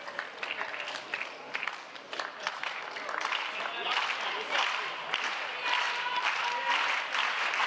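A home crowd at a men's singles quarterfinal of the 2016 Swedish Open table tennis tournament breaks into sustained applause and cheering that swells and holds loud, mixed with faint voices.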